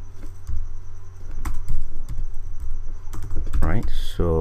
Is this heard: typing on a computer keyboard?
yes